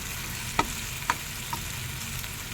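Eggplant frying in a generous amount of oil for bharta, a low steady sizzle with a few sharp clinks of a utensil against the pan.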